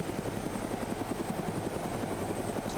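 Arma 3 helicopter in flight, a close rhythmic rotor thump beating steadily over a dense engine roar with no break.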